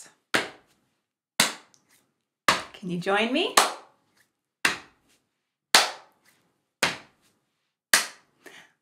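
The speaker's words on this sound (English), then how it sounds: "So we'll start by slapping our lap and clapping like this." Hands slap laps and clap in a steady rhythm, about eight sharp, close hits evenly spaced, with one short spoken line from a woman in the middle.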